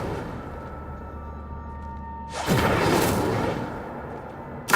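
A fire spell is cast in the video game Hogwarts Legacy: after a steady background hum, a sudden loud whooshing burst flares up and fades over about two seconds, followed by a brief sharp burst at the very end.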